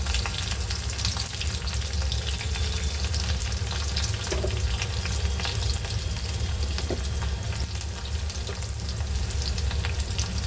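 Mustard seeds, cumin and garlic fry in hot oil with a steady, close sizzle and faint crackles throughout. No voices are heard.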